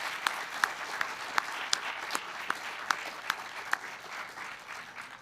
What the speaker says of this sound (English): Let's take a second here and just do another round of applause for all of the excellent presenters today.